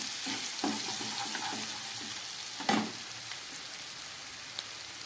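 Cumin and grated ginger fry in oil and butter for a vegetable rice, giving a continuous close hissing sizzle, with a few soft stirring knocks and one sharper clack partway through.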